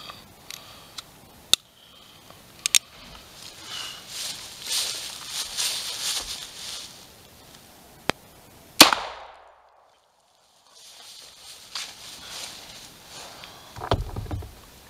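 A .45 Colt handgun firing a lead bullet into wooden boards outdoors, a single sharp loud crack followed by near silence, with a few fainter clicks and handling sounds before it.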